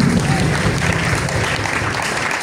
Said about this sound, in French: Acclame encore pour Jésus-Christ